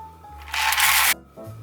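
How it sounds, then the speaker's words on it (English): Window tape pulled and pressed inside an empty keyboard case gives a short, bright crackling rasp lasting about half a second between quieter handling noises. "I'm going to quickly apply the window tape"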